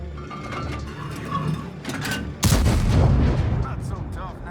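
A heavy tank cannon salvo fires in a tank video game, a loud booming blast midway through, followed by a rolling rumble, after quieter mechanical game noise and faint voices.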